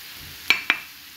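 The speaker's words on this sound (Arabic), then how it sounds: "غادي نخلطوا دابا العناصر ديالنا مزيان ونخليو هاد الحشوه هذه كتشحر مزيان" Two quick scraping knocks of a spoon stir chicken filling with grated carrot, coriander and parsley in a pan, set against a faint, steady sizzle with no speech.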